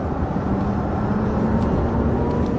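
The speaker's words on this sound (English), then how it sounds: "That's the motor and the drive inverter" Faint, steady electric whine from the motor and drive inverter of a new Tesla Model S, a thin tone sitting under road and cabin rumble as the car accelerates.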